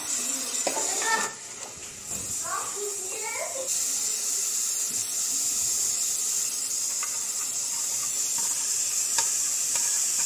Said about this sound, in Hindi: सब्जियां फ्राई हो गई हैं हल्की हल्की सी।